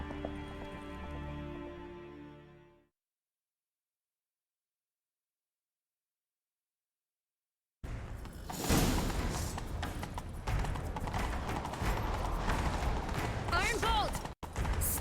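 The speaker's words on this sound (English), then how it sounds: "Grab a horse, we'll chase him down." Galloping horse hooves from the Witcher 3 video game on Nintendo Switch, with a rapid, loud pounding rhythm mixed with in-game action noise after a short musical tone and a gap of silence.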